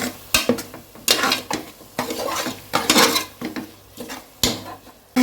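Biryani masala stirred in a pot with a metal spoon, giving repeated scraping clanks against the pot rim at an uneven rhythm over a faint sizzle, close and clear.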